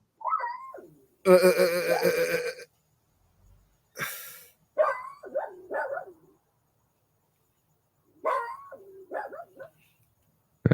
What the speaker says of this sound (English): We hear a dog. Yeah, that's one of ours.